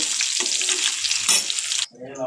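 Cut potatoes and green chillies sizzle in hot oil in a pan, a loud steady fry with a brief stir, dropping off abruptly near the end to a quieter, lower sound.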